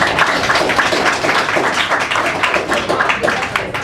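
A room full of people applauding at a PlanNet Marketing launch presentation in Jamaica, a dense, steady patter of clapping that continues throughout.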